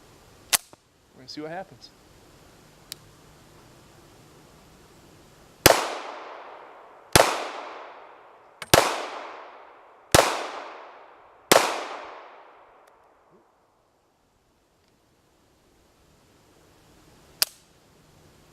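A 1915 DWM P.08 Luger pistol fires 124 grain Remington ball ammunition: five sharp, loud reports spaced evenly about a second and a half apart, each with a short ringing decay. A few fainter clicks and a brief voice come before them, and one isolated crack follows later.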